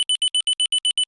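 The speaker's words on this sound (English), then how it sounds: "So if you check the smoke detector in your house, it would sound like this." A smoke detector alarm beeps rapidly and loudly, about ten evenly spaced shrill high tones in roughly one second, sounding alone with no other noise.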